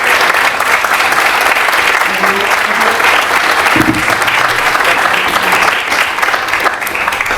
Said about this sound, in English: So I think we'll give Adrian another round of applause.